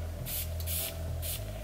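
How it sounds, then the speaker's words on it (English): Three quick hissing sprays of Fenty perfume onto a wrist, close and loud, each burst under half a second with short gaps between and a faint low hum underneath. "let's spray it on my wrist and see"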